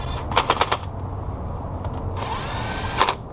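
A power tool runs down bolts on a 2003 Nissan Xterra supercharged engine during knock sensor replacement: a fast burst of sharp rattling impacts near the start, a longer whirring run, then one final short burst, all close by.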